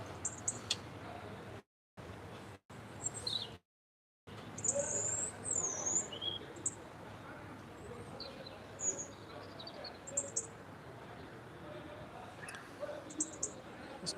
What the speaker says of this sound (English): Some lovely bird sounds coming through